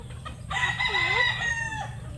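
A rooster crows once, loud and close, with chickens clucking around it in a poultry range area.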